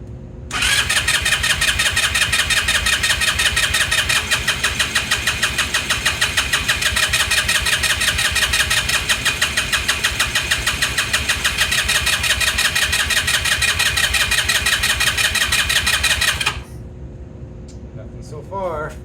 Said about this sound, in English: Engine start situation.